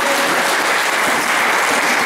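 A church congregation applauds steadily, a dense, loud wash of many hands clapping that stays even for the whole stretch.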